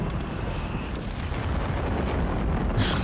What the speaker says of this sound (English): Right through it with his mortars, though.